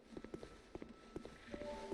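Soft, faint footsteps in Dark Souls 2, a few dull irregular thuds spaced across the moment over a low game ambience, with a sustained tone rising near the end.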